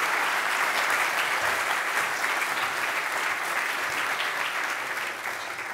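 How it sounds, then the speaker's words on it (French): A conference audience gathered for a morning talk on cybersecurity claps in a dense, sustained wave of applause that fills the room evenly and stays loud before easing slightly at the end, with no voices heard. "Donc je vous propose de l'accueillir avec beaucoup d'applaudissements"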